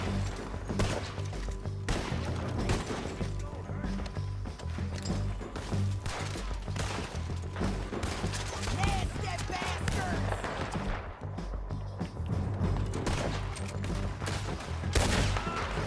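Rapid gunfire from Red Dead Redemption 2, dense overlapping shots and impacts cracking continuously throughout at steady loudness, with game music and ambience underneath and a voice briefly talking.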